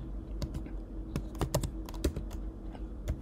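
Typing on a computer keyboard to enter a Linux terminal command, with quick irregular bursts of close, crisp key clicks and a few sharper presses, and no voices.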